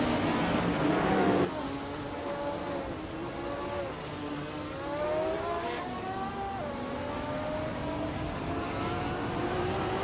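Racing cars fighting side by side for position: loud, close engines rev and climb steadily in pitch, one roaring past early, with the whine continuing throughout and no talk.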